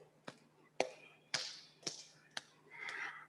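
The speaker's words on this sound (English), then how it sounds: "And now bringing the left palm up and tapping" A palm taps faintly and sparsely, five or six soft taps with pauses between them, during a guided group healing circle. A quiet tone and faint voice sound lie under the taps.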